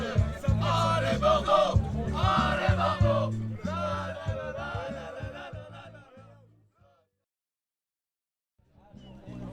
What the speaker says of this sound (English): While the crowd sings songs, there's music in the background